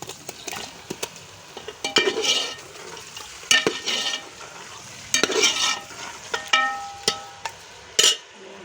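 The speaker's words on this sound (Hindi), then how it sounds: "चिकन को अच्छी तरह से हम करेंगे इसी घी में, प्याज में फ्राई।" Chicken frying in ghee with onion and garlic-ginger paste for aloo gosht, a soft sizzle under repeated sharp clinks and scrapes of a spoon stirring against the pot in uneven bursts.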